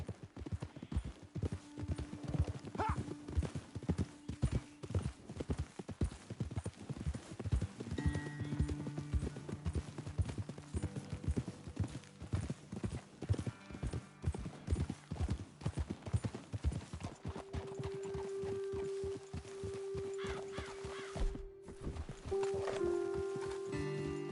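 Steady clip-clop of horse hooves walking in the video game Red Dead Redemption 2, rhythmic and continuous, with a brief whinny and faint tones in the background.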